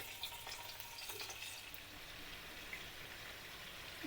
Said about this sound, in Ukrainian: Олія в нас розігріта, будемо обсмажувати ребра.